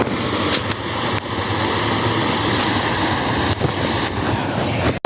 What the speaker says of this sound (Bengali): আর এত জল আসছে কি বলো, জলও পড়ছে গুঁড়া গুঁড়া, এই ধার থেকে জলটা আসছে।